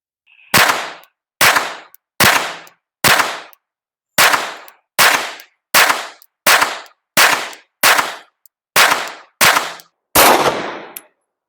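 Twelve sharp gunshots from a full-size pistol fitted with a red dot sight, fired at steady intervals of about one second at an outdoor range, loud and close with no talking.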